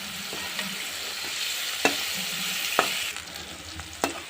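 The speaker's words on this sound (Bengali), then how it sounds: "ঠিক এরকমভাবে আমি নেড়ে নেড়ে পটলটাকে ভেজে নেব।" Pointed gourd (potol) pieces frying in a pan, a steady close sizzle with a few sharp knocks and scrapes as a spatula stirs them.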